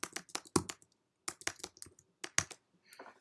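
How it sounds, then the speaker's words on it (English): Quick bursts of typing on a computer keyboard while entering a chromedriver path in Python, crisp close keystrokes in uneven clusters with short pauses, alone without speech. "So we have to type chromedriver."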